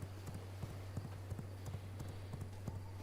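Horse hooves clip-clop in a steady, continuous rhythm as a mount is ridden in the V Rising video game, a close, even trotting pattern over a low steady hum, with no talk.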